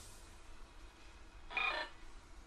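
A telephone rings once, a short bright burst of ringing tones standing out from a quiet room background, with no one talking over it.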